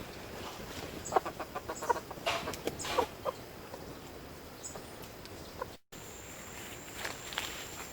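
Chickens at a permaculture institute in the Amazon scratch and walk over garden beds, with soft rustling footsteps and a few quiet clucks close by in an outdoor setting.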